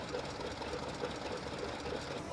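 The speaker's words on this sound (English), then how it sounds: "Here we have a lovely Rushton Proctor & Co. traction engine. And the gentleman's got it ticking over a treat." A Rushton Proctor & Co. steam traction engine idling at a steam show, ticking over with a soft, regular chuffing beat that repeats evenly throughout at moderate distance.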